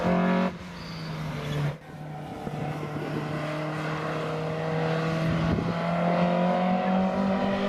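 An Alfa Romeo 1600GT Junior engine drones loudly at a club track day, a sustained close roar that dips briefly near the start then holds a steady pitch, with no talking.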